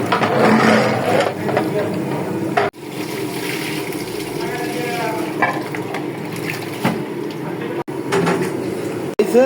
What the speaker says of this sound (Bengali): চাল দিলাম ঢেলে